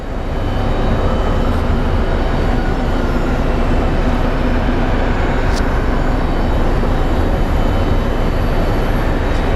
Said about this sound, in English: We have an American Airlines A319 coming in from Reno.